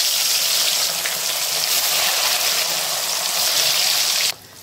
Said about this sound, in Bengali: তেলটা গরম হয়ে এসছে, এরপর মাছের পিসগুলো দিয়ে দিচ্ছি।